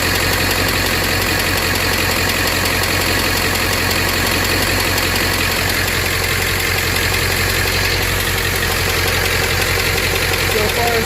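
A Ford 7.3 diesel engine, just back from an oil change, idles loud and close with a steady rough clatter and no break, while a voice talks over it.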